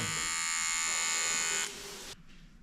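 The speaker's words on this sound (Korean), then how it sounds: "보면 여기다가 바리깡을 이렇게 하고 주면" Electric hair clipper buzzing close by with a steady high-pitched whine that shifts pitch, then fades to a quieter hum as it is switched off.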